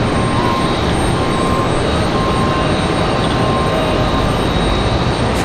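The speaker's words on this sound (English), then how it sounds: "Southwest 154, this one coming in from Atlanta, Georgia. 737-700" A Southwest Boeing 737-700 jet arrives at Raleigh-Durham airport, its engines a loud, steady, unbroken roar close by with no voices.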